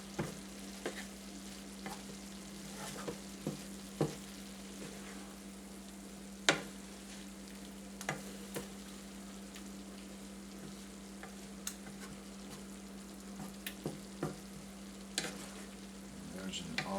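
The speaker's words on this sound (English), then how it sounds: "These onions are really starting to kind of go translucent, which is nice." Onions cook down in a greasy pan for chili, giving a steady, close frying sizzle with occasional sharp stirring clicks and scrapes throughout. Nobody speaks.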